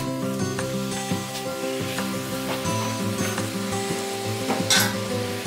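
Minced meat sizzles in hot oil in a saucepan for chili con carne, a steady close crackling fry with occasional soft clicks of stirring and scraping.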